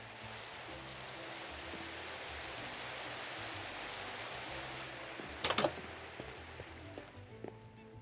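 Steady rain falls throughout a survival video game scene as an even, hissing wash, with a short cluster of louder clicks and taps near the end.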